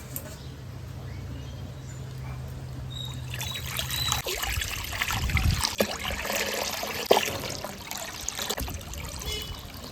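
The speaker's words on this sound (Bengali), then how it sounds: "এবার দিয়ে দেবো জল" Water is poured into a cooking pot over a lit earthen stove on a rainy day, to boil broken rice; a faint clatter comes first, then a steady, fairly close splashing trickle that fills the rest of the clip.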